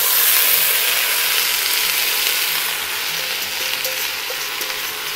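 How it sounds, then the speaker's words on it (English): Sorrel leaves sizzle in hot butter in a pan on the stove, producing a loud, dense crackling hiss up close that eases slightly as the leaves settle and are stirred. "I have a couple tablespoons of butter heating here, so I'm just gonna add this sorrel."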